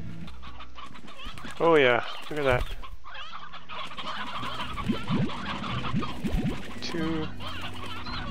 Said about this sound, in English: Lots of chickens. Too many chickens.